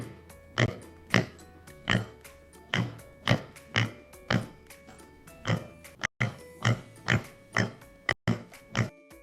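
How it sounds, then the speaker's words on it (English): Pigs grunt and oink in short, regular bursts, about two per second, close and clear with no talk. "8 pigs."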